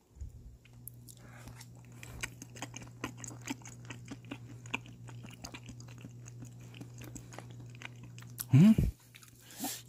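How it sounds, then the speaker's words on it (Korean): Close chewing of lightly blanched seafood with a slightly crisp skin, heard as steady soft bites and faint crunches over a low hum, followed by a brief loud burst near the end. "살짝 데친 거 먹어볼게요"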